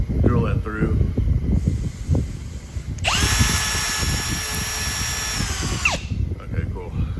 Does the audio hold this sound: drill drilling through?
yes